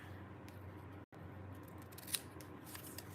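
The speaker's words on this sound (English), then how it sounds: "let me just use my paper snips" Paper snips trimming a piece of craft paper with a straight cut, a short crisp snip close by in a quiet room, no talking.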